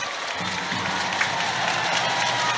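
Home fans at a Cardiff Devils versus Manchester Storm ice hockey game applaud and cheer, a broad, continuous crowd roar filling the arena at steady loudness, with commentary faintly under it.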